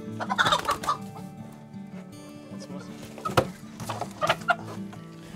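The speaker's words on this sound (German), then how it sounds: "Hühner sind interessante Tiere." Chickens in a home garden coop cluck in short bursts, fairly near, with a quieter stretch between the calls.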